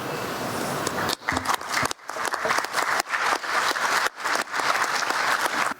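Conference session audience applauding, dense steady clapping from a crowd with a few brief dips, continuous and fairly loud throughout.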